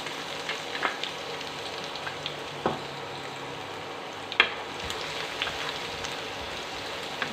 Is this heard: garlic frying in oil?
yes